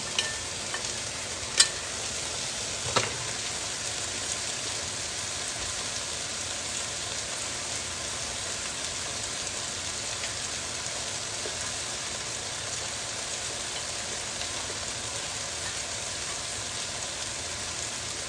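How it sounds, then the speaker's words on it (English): Frying pan rinsed under a running kitchen faucet, a steady broadband water hiss lasting throughout, with a couple of brief clinks early on. "so I just took that over to my sink. Rinsed it out a little bit."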